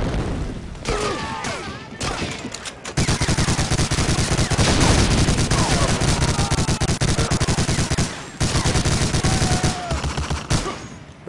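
Sustained MG42 machine gun fire in the Medal of Honor Allied Assault World War II game, rapid continuous bursts roaring loudly for most of the stretch with brief pauses and distant explosions mixed in.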